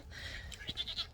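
Goats bleat faintly in a pen, a short quavering call at a distance over low background rumble, brief and quiet.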